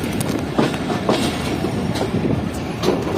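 The Karakoram Express passenger train rolls along the rails with a steady, loud rumble, heard from on board, and rhythmic clickety-clack thumps from the wheels pass over the rail joints.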